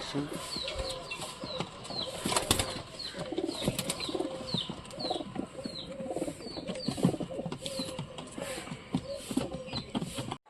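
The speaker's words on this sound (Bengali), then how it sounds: "দেশি কবুতরগুলো আবার বাসা করতেছে" Local domestic pigeons nesting make faint coos and brief wing flaps, with a string of small regular chirps and soft rustling in the background.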